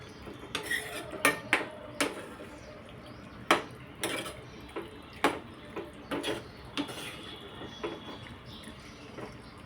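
Boiled pasta being mixed into red tomato sauce in a pan, with a spoon scraping and knocking against the metal in irregular, close taps and scuffs over a quiet background.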